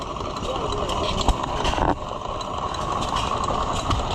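An all-original antique International Titan Junior stationary engine, a 1 horsepower farm engine shown at a county fair, runs with a steady low chugging drone amid outdoor crowd noise and nearby chatter.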